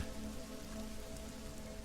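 Steady rain falling on a muddy, flooded forest road, a dense, even hiss of drops that holds at the same level throughout with no breaks.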